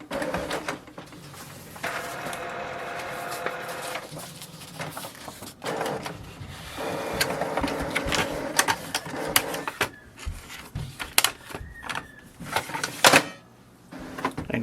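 A Canon Pixma TR7020 inkjet printer runs its alignment with whirring motor passes, clicks and mechanical clunks at close range, stopping and starting in stretches without any talk.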